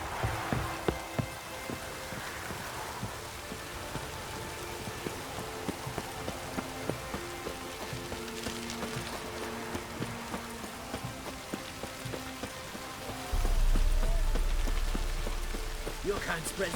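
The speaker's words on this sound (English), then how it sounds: "looks like rain." Steady rain falls in The Witcher 3, a broad even hiss with scattered drop patter throughout, joined near the end by a louder low rumble while voices talk over it.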